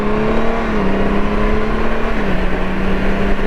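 A Honda Goldwing DCT motorcycle pulls away from an intersection, its engine note a loud, close, steady whirring drone that rises and then shifts down in pitch as the automatic transmission changes gear, with no talking.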